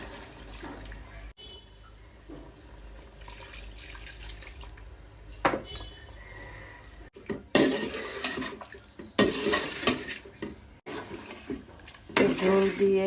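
Water is poured into a pan of bottle gourd and prawns cooking on the stove, coming as irregular splashing bursts mostly in the second half, with a voice talking in between.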